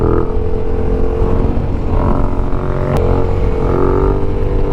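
A motorcycle engine revs loudly and close during wheelie practice, its tone rising in pitch across several throttle swells, with a brief sharp click partway through.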